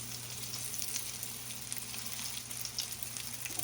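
Breaded fish sizzles steadily in a frying pan, a soft, even crackle with occasional small pops and a low hum underneath, fairly quiet and with no talking.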